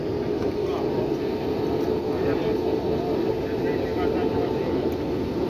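Steady, loud cabin rumble inside an Avianca Airbus A320-233 with sharklets on approach to land at Managua, an unbroken engine and airflow drone throughout.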